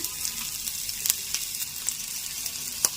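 Ginger paste sizzles in hot oil for a South Indian tempering, a steady close-up hiss scattered with small crackles and pops, with no voices.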